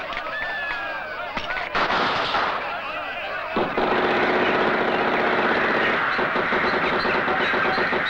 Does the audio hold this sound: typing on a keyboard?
no